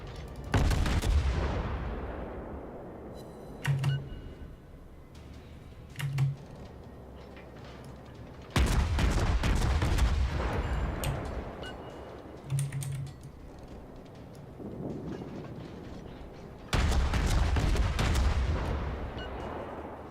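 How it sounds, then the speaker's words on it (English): Heavy warship guns from World of Warships' cruiser Cleveland fire broadside in three loud, booming salvos spaced several seconds apart, each decaying slowly, with faint clicking of a keyboard and softer distant shots between. "Gonna keep firing broadside on this guy."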